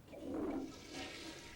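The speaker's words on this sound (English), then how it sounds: "I heard a toilet flush." A toilet flushes somewhere out of sight, a short muffled rush of water that swells and then drains away quietly over under two seconds.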